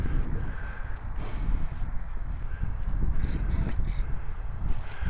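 Strong wind buffets the microphone continuously with a heavy low rumble, gusting slightly louder and softer over a few seconds.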